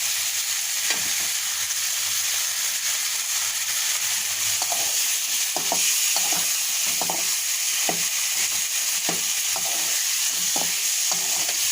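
Leafy greens frying in a home kitchen pan, a constant close sizzle broken by irregular scraping stirs and light knocks of a spatula.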